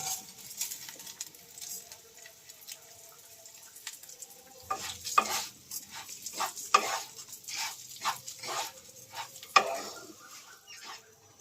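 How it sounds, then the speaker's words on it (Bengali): Raw rice frying in a pan for Basanti pulao, with a spoon scraping and stirring it in quick irregular strokes over a light sizzle, close-up and with no talking. "চালটা দিয়ে একটু ভালো করে ভেজে নিতে হবে।"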